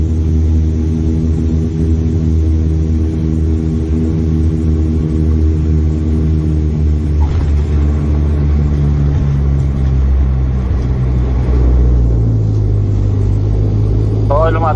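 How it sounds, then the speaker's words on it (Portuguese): Inside the cabin of a passenger plane on a Terceira to Pico flight, loud steady engine rumble with layered low drones shifts pitch as the aircraft lands and rolls onto the runway, a voice talking over it. "Já está aqui, oi, já está a entrar aqui na pista."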